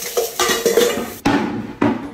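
Pots and dishes clattering as they are washed: a series of sharp metallic clanks and knocks, each ringing briefly before the next, close and loud with no voices.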